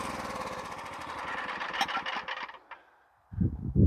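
A Norwood HD36v2 band sawmill cutting black oak, giving a loud, steady engine drone with a buzzing blade that fades out, followed by a heavy, rumbling thump near the end.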